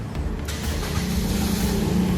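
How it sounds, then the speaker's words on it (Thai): Toyota Vios engine starting by push button, settling into a steady low idle hum that holds close and even throughout. "อันนี้ รถ สตาร์ท แล้ว นะครับผม สังเกตได้จากรอบเครื่องนะครับผม"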